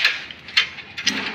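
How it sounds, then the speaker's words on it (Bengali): A plug wrench ratchets in short, separate clicking bursts while spark-plug parts of a mini garden tiller are assembled, about three close, moderately loud clicks spread evenly with no talk. "এটা হলো প্লাগ রেঞ্জ"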